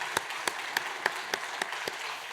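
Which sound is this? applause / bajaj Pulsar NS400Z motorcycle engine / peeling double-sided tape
applause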